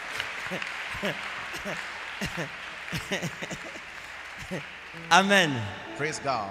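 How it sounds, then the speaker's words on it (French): A church congregation claps for a testimony, a scattered patter of hands under loud spoken affirmations, with a strong voice rising near the end. "Let's clap for this testimony."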